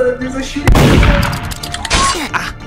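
Gunfire in a Roblox game: a couple of sharp, loud shots and thumps in quick succession, close and punchy, with faint game sounds around them.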